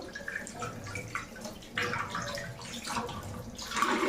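Fish being washed by hand in water in a home kitchen, a steady run of splashing, dripping and sloshing close by, growing a little louder toward the end.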